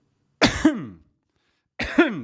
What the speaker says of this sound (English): Pardon me, coughing on you there.